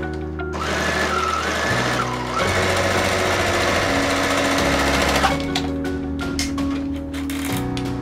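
Singer serger overlocker stitching a tag into a fabric scrunchie, a fast, steady mechanical whir with shifts in speed and pitch, loud and close, ending with a few clicks.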